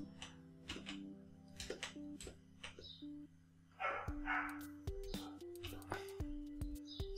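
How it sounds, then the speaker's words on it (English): A dog barking outdoors on a hot day, heard faintly through open windows as a series of short, distant barks mixed with quiet whispered talk indoors. "sorry for the barking"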